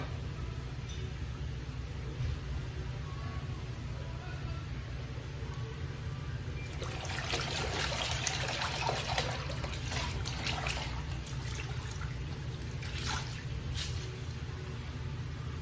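Tap water running over a straight razor being rinsed during a shave, a steady low stream that grows louder and splashier partway through.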